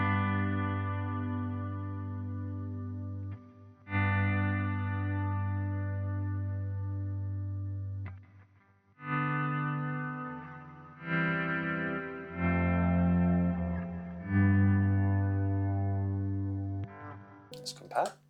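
Electric guitar run through a Meris Mercury X reverb pedal set fully wet, sustained swelling chords that bloom and fade into long washy tails, loud and alone.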